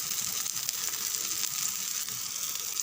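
Oil hits bottle gourd adai cooking on a hot griddle, a steady close sizzle with light crackle running evenly throughout, no voices.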